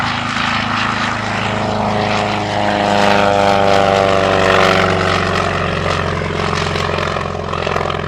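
A propeller plane drones loudly past at an air show, its engine swelling and fading, with crackling pops from side-mounted exhaust stacks scattered through the roar.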